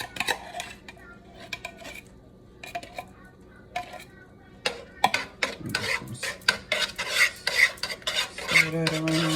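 Smothered chicken in cream of celery soup being stirred in a pot, with repeated scraping and clinking of a utensil against the pot, fairly close, mixed with faint kitchen clatter.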